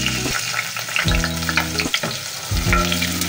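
Garlic frying in hot cooking oil in a pan for pork loin tinumis, a loud, steady sizzle with bursts of stirring and scraping and low background hum.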